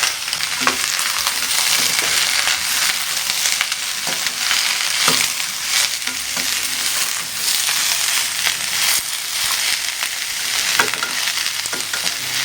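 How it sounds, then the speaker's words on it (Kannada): Garlic and ginger fry with onions in hot oil, a loud, dense crackling sizzle with repeated stirring scrapes throughout, close up and with no talking. "ಈಗ ಇದಕ್ಕೆ ಬೆಳ್ಳುಳ್ಳಿ ಶುಂಠಿನ ಹುರಿಯೋಕ್ಕೆ ಸೇರಿಸ್ಕೊಳ್ತಾ ಇದ್ದೀನಿ"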